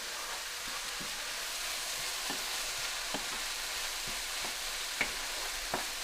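Onions caramelizing in a frying pan, destined for Macedonian baked fish: a steady, close hiss of sizzling with occasional small pops and crackles, running continuously without speech.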